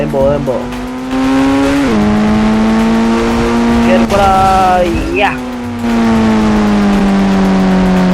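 Engine drone of a car in the mobile game Indian Bike Driving 3D, revving steadily with pitch dips and rises as it shifts, loud and continuous over about eight seconds.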